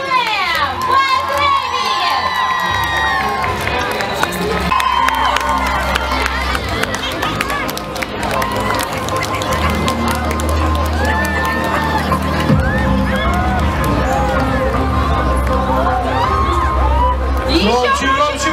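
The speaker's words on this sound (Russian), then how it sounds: "Громче, громче ваши аплодисменты!" A lively outdoor crowd at a street cosplay show claps and cheers continuously, with children shrieking and shouting over the steady applause, while an announcer's voice carries through.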